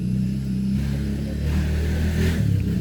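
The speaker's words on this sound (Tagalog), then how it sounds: "Sorry, maingay yung motor." A motorcycle engine idles and revs nearby with a steady low rumble, rising briefly in pitch before settling.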